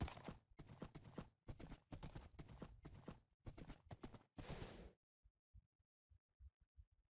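Rapid rhythmic hoofbeats of a galloping horse in Minecraft, fairly loud and continuous, then trailing off into a few soft, sparse thuds.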